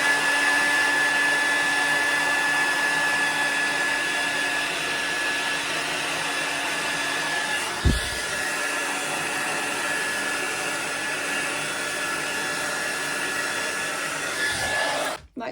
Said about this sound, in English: you have to get your hairdryer and you just dry the kink down